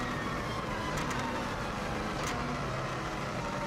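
A 2016 Subaru WRX STI turbo engine spinning near 8,500 RPM during a flat-out run on the Isle of Man TT course, a loud steady high-revving roar with a couple of brief sharp spikes.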